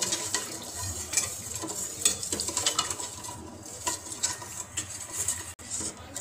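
A whipping cream mixture is stirred in a pan over a slow flame, a soft steady sizzle broken by repeated scraping and tapping strokes of the spoon, close up without talk.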